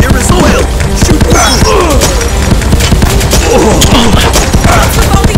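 Rapid arcade gunfire from the Elevator Action Invasion shooting game blasts loud and continuous, with dense bursts of shots and thumping impacts piling up over one another.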